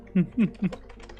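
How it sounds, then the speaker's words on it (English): Three quick keystrokes tap on a computer keyboard, close and crisp, followed by a few softer, fainter clicks in a quiet room. "I'm typing at Rax."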